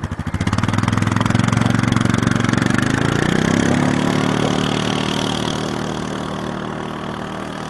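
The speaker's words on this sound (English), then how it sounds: "we're going to take off in Predator 1. That's our little vehicle we've been running around in." A small off-road vehicle's engine runs steadily near at hand, a loud, even mid-pitched putter with a slight rise around the middle that then settles and fades slowly.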